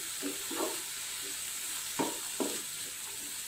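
Chopped vegetables sautéing in a pan for a chicken-vegetable soup: a steady soft sizzle with a few scraping stirs of a spoon against the pan, close and fairly quiet.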